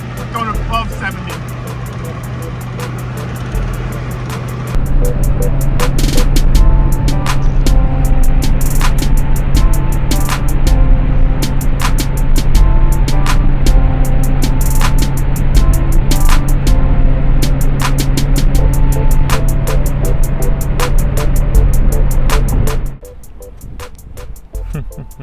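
A car engine holds about 4,000 RPM at over 70 mph, making a loud, steady interior drone with a constant low hum that runs unbroken for over twenty seconds before dropping away near the end.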